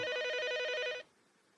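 A telephone rings with a steady electronic warble for about a second, then stops, leaving a quiet room.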